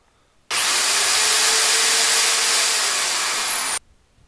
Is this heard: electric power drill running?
yes